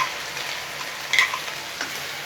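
Ground masala paste for a rajma gravy sizzles softly in a pan over a low flame, a steady faint crackle with a brief louder burst midway, no talking.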